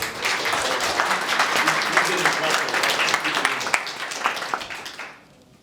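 Audience applause at a chamber of commerce leadership breakfast: brisk, close clapping from a room of attendees that holds steady and then stops abruptly near the end.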